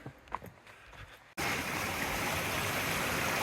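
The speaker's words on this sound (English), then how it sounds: "So we're crossing this, which by the way is Nancy Brook" Nancy Brook rushing over rocks at a trail crossing near the Mt Nancy cascades in New Hampshire's mountains, a loud steady roar of flowing water that suddenly swells up after a quieter opening of footsteps and faint outdoor sounds.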